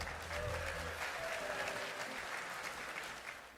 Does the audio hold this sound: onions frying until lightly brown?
no